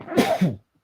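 A single close, explosive sneeze, short and forceful, followed by silence.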